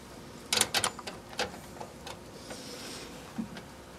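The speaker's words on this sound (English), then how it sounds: "I'm screwing a little bit at a time." A screwdriver slowly tightens the screws of a heat sink during a cheap computer build: a quick cluster of sharp, close clicks, then sparser, quieter ticks as the turning continues.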